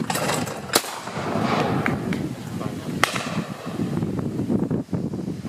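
Shotgun fired at clay targets at Anglesey Shooting School, two sharp loud reports a couple of seconds apart amid outdoor wind noise and people talking.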